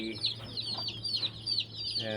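Chickens cluck and squawk nearby in a quick, busy series of calls, with a low steady hum underneath.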